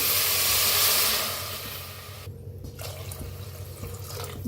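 Water poured from a copper pot into a pan of turmeric-fried sprouted moth beans, a loud rushing pour that eases into a softer hissing simmer.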